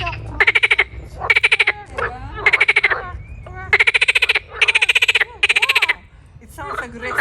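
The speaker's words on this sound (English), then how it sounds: "Do you hear these frogs?" Several frogs croak loudly and close by in a city-centre garden in Geneva, in repeated rhythmic bursts of rasping calls separated by short pauses, over low background hum.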